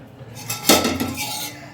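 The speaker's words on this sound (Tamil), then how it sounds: "அடுப்பில் பாத்திரம் வச்சிடலாம்." A metal pot clanks down onto a lit stove, one clear knock with a brief ringing clatter, close up and with no talking.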